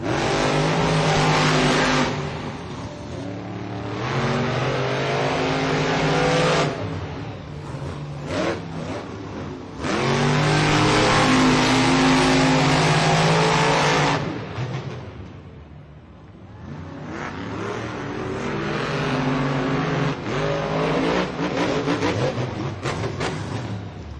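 Monster Jam monster trucks race in a San Diego stadium, their engines roaring loudly in long revving surges that briefly drop away and build again, with occasional tire squeal and no talk.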